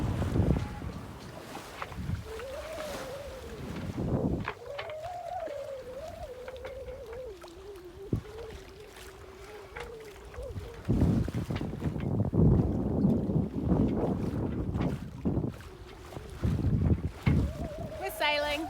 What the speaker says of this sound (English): We're sailing. Sails are up, motor's off. It's a little bit rolly, but it's beautiful.